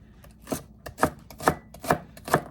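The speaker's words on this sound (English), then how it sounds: "always keep your fingers curled when you chop, and always have a sharp blade" A knife chops vegetables on a board in five evenly spaced, crisp strokes about half a second apart, close and clear with no talking.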